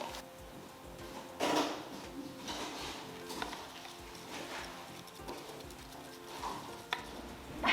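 Chalk paint mixed with water, a utensil stirring and scraping through the thick mixture in a container in irregular strokes, close but quiet, with no talking.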